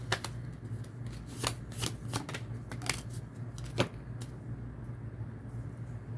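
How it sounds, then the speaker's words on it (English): Tarot cards being shuffled by hand, a run of crisp papery riffles and flicks that come in quick uneven bursts and then trail off, close and fairly quiet over a faint steady hum, with no voices. "Let's get the cards on the board, tarot cards, and see what the message is for Taurus."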